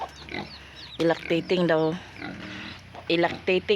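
A pig gives short oinks and grunts close by, overlapped by a person talking over the animal.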